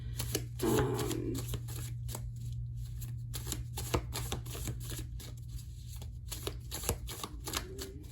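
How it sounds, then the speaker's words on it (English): Tarot cards are shuffled in quick, crisp riffling bursts with a soft papery flutter, close and fairly quiet over a faint steady hum. "Shuffling to see if anything pops out on its own"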